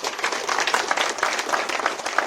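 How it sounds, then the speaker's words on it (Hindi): An audience at a village gathering claps vigorously, a dense, steady wash of many hands close by, sustained throughout without pause. "तो एक उस जननी के लिए जोरदार ताली बजा दो"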